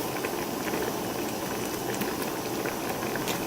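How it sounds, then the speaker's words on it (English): Grapefruit marmalade boils in a pot with a dense, continuous bubbling and popping, close and steady, with no talking. "It's boiling pretty good."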